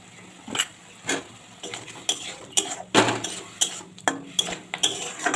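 Spatula stirring egg curry masala with boiled potatoes in a metal pan, giving a steady run of roughly a dozen clinks and scrapes at an even rhythm, close and fairly clear, with no talking.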